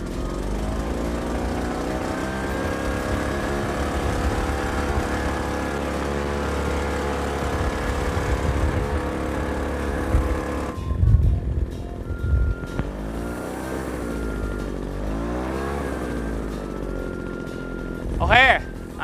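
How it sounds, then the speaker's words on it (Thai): A MITSUYOSHI BE-65A leaf blower's small petrol engine runs at its lowest throttle with a steady, loud, buzzing drone, then shifts pitch and wavers as someone talks over it. "นี่คือเครื่องล่อต่ำสุดของเครื่องที่เขาทำได้ คือมันเพียงพอกับการเป่าใบไม้สบายๆอยู่แล้วครับ"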